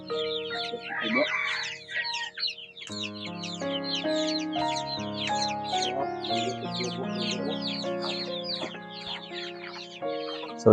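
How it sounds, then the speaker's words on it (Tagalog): Several chickens cluck and chatter continuously nearby, with overlapping calls and occasional sharper squawks. "So ito po yung mga alaga nating mga manok mga par."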